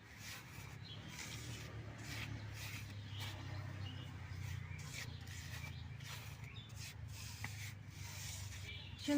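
Hands rub and squish salt, turmeric and chili powder into chopped banana flower peels, a steady close rustling and kneading texture with soft gritty scrapes and no talk.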